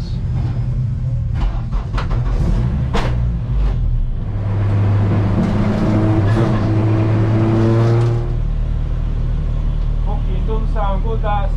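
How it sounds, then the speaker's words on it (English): Hot hatch race car engines rev and drone at Silverstone, a loud sustained engine note that rises and holds, with speech over it. "Rev up your engines."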